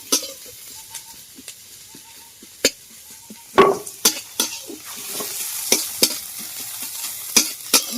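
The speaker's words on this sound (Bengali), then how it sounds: "পেঁয়াজটাকে ভেজে নেব" Chopped onions, cut in fairly large pieces for a soybean chop filling, fry lightly in a pan with a steady soft sizzle, punctuated by repeated sharp scrapes and knocks of a spoon stirring them, close up with no talking.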